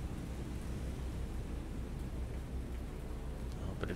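Steady rain and thunder at sea in the naval video game War on the Sea, in rough Sea State 6 weather, a dense continuous roar of downpour with low rumbling underneath, filling the whole stretch without talk.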